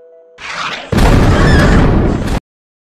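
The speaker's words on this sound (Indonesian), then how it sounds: "sebuah tembakan meriam meledakkan ruangan bersama Luke" A cannon shot: a sudden, loud blast erupts after a brief rising rumble, roaring broadly for over a second before cutting off abruptly into silence.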